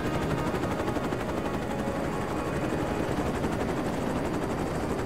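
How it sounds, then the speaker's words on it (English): A helicopter in the combat game ArmA: Cold War Assault gives off a constant, even rotor chop with a dense mechanical drone, steady and fairly close throughout, with no talk. "And helicopters are freaking awesome in this game."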